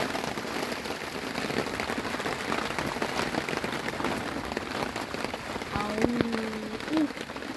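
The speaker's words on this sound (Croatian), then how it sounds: "Kiša napada protiv Mirana." Steady, dense hiss of heavy rain pouring nonstop on a surface during carp fishing, with a brief voice near the end.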